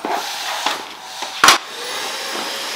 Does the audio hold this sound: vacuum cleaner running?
yes